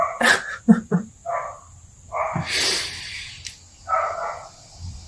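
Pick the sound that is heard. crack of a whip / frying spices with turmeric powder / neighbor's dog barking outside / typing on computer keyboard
neighbor's dog barking outside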